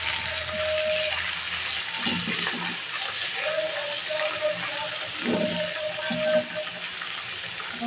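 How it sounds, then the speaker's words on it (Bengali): Turmeric and chili powder fry in a pan, about a spoonful of each, ahead of Malabar spinach going in, giving a soft continuous sizzle with a few stirring scrapes at moderate distance and no talk. "এখন আমি এটাকে ভালো করে একটু ভেজে নেব।"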